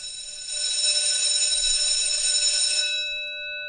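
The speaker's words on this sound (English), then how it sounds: "School bell." A school bell sound effect from a Stream Deck rings as one continuous, loud electric bell for about two and a half seconds, then cuts off and leaves a brief fading ring.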